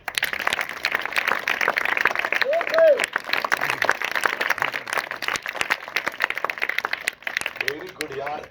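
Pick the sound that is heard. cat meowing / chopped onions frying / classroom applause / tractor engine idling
classroom applause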